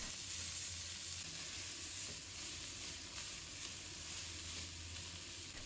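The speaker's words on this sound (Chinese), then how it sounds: "再把它洋葱丝放入锅中，保持中火，把它炒到有一点点焦黄色。" Beef brisket and shredded onion stir-frying in a pan over medium heat, giving a steady, fairly quiet sizzle and hiss throughout with no voices.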